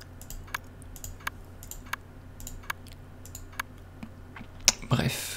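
Keyboard keys and a mouse click in sparse, irregular taps during PC play of the game Dandara, close and fairly quiet, ending in a louder burst of rustling.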